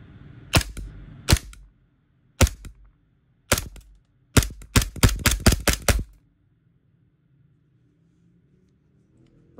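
Airsoft SRC Glock 19 Gen 5 MOS dual-power pistol running on CO2, firing a volley of sharp close shots: a few spaced single pops, then a quick string of rapid reports, followed by quiet.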